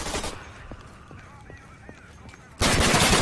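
Gunfire in the Day of Infamy video game: a loud burst opens, a stretch of quieter ticking follows, then heavy sustained firing erupts and continues to the end.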